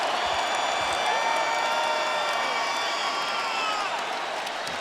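A basketball arena crowd at an NBA playoff game between the Mavericks and Trail Blazers roaring loudly and continuously, a dense, close wall of cheering with whistles and whoops rising through it.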